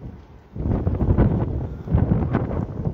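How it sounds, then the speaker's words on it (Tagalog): Strong wind roars and buffets the microphone in heavy low gusts, starting quieter and then blowing loudly and steadily with no talking. "Lakas ng hangin ngayon."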